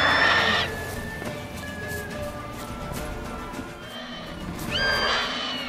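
A horse in The Witcher 3 whinnies loudly near the start, hooves clip-clop quietly through the middle over ambient game sound, and a second shrill neigh follows near the end.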